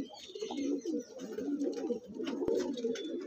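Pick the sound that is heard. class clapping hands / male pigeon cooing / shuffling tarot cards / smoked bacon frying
male pigeon cooing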